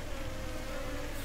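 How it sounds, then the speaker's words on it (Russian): Steady, close swarm-like buzzing of purple flies in the video game SupraLand, a continuous drone with a faint high hiss that runs without a break. "Фиолетовые мухи, которые любят морковку"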